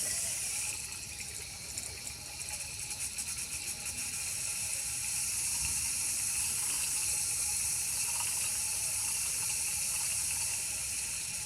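Water pouring into a recycled wicking bed, a steady hissing, splashing stream that runs continuously and fairly softly throughout, with no voices.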